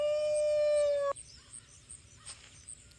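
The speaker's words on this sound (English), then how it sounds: "the howling ability is really cool" Wolf howl from the howling ability in The Wolf video game: one clear, sustained tonal howl lasting about a second that cuts off abruptly, followed by quiet background sound.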